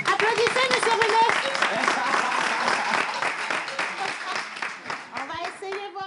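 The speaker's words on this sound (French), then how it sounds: "Applaudissez, monsieur René" Audience applause at a live gathering with Cameroonian dances, a steady burst of clapping mixed with voices and children talking over it throughout.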